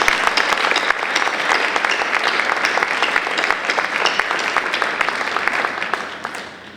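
Audience applauding at Franklin and Marshall College, a dense, steady clapping from a large crowd that holds loud for several seconds and then tapers off at the end.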